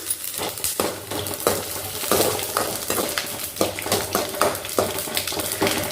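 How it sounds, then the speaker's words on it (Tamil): Black pepper, cumin and cashews crackle and spatter while tempering in hot ghee for Tamil festival pongal, with repeated sharp pops and metal stirring clinks over a steady sizzle, close and fairly loud. "நெய்யில் மிளகு சீரகம் முந்திரி எல்லாமே வந்து தாளித்து போட்டாச்சு"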